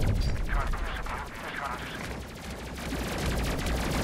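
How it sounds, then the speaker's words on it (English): A missile launcher fires in a space combat video game, with a dense, continuous roar of explosive bursts and gunfire-like crackle lasting throughout, loud and close, with no pauses. "Come on, missile launcher, do your thing."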